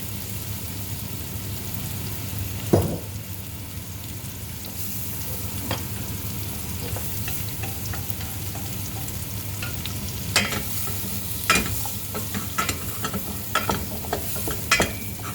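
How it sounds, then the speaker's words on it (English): Spices sizzling in hot oil for a meat tagine, a steady close frying hiss with scattered sharp pops and scrapes of stirring throughout, no voices. "You just want to cook those spices, get them really flying."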